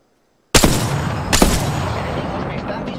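After a short silence, two loud gunshot blasts ring out about a second apart in the video game Apex Legends, followed by a sustained noisy rumble of continuing gunfire.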